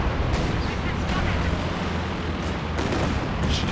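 Katyusha rocket artillery in Company of Heroes 2 roars in a continuous, heavy barrage of rumbling explosions, with a voice talking over the din.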